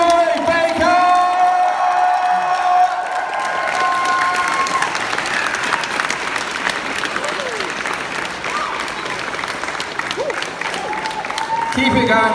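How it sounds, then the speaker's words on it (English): A large convention audience breaks into loud sustained applause and cheering after a live performance at MCM Scotland, with whoops over dense clapping and a few piano notes fading at the start as a host speaks over the crowd. "Give it one more round of applause."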